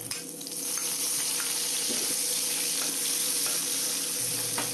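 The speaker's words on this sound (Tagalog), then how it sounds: "Ang isunod naman natin na piprituhin ay ang hiniwang hotdog" Sliced hotdog fries in a pan with a steady, close sizzle that holds level throughout, with a few faint clinks of stirring on top.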